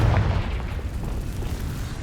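A Confringo spell explosion in the video game Hogwarts Legacy, a loud, deep, rumbling boom that fills the whole moment and stays heavy throughout, with no voices.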